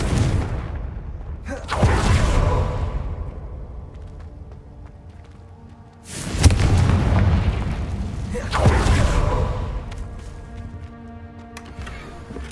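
Deep booming blasts from the Confringo fire spell in the Hogwarts Legacy video game, three heavy explosions with rumbling tails spaced a few seconds apart, loud and close against quieter game ambience.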